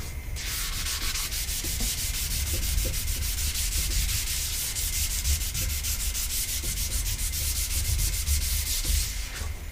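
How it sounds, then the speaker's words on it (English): Steady, continuous sanding of a skateboard with 320-grit sandpaper, a close, even scratchy rubbing that runs without pause throughout. "this is the first sanding with the 320"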